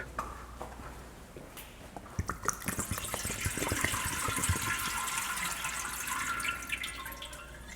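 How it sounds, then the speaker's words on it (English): Old coolant drained from a Toyota splashes and trickles steadily down a drain, a continuous wet gurgle with scattered drips and splashes, close and fairly loud. "We're just gonna take this to the drain, dump this coolant."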